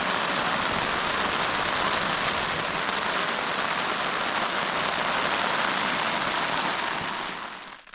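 Steady rain falls on a rocky lakeside campsite during a canoe trip, a close, even hiss that holds constant before fading away at the end.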